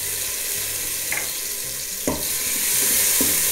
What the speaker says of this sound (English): Now that olive oil is nice and hot, we're gonna drop in 1 heaping tablespoon of minced garlic.